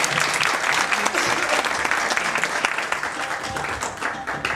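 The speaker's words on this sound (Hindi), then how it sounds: "जोर से तालियां बजाएं" An audience claps loudly and steadily at a qawwali show in Manchester, a thick wash of many hands with scattered sharper claps and faint voices beneath.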